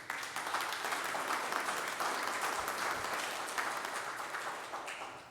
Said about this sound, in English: I just like to applaud everybody.